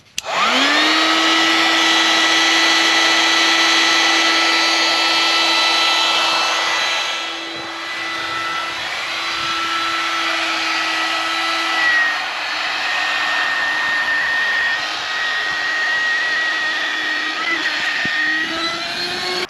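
A small electric air pump inflates a camping mattress inside a Jeep Wrangler Unlimited, giving a loud, continuous whirring whine that drops in pitch partway through and then keeps running steadily.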